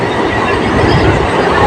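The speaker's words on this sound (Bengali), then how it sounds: "ঝিক ঝিক ঝিক ঝিক ঝিক ঝিক ঝিক ঝিক করে ট্রেন যাচ্ছে" A train running on rails between BBD Bag and Birati near Dum Dum Cantonment, a loud, dense roar of wheels and carriages heard from aboard, steady and continuous without a break.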